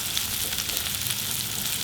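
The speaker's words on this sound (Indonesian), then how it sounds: "Kita tumis bawang dan cabai sampai dia harum." Shallots, garlic and curly red chilies sauté in hot oil with a dense, steady sizzle that crackles continuously and fairly loud, with no talking.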